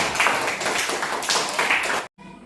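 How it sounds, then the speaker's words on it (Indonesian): Brief burst of clapping from a small group, steady for about two seconds before cutting off abruptly. "Tepuk tangan untuk kita semua dulu."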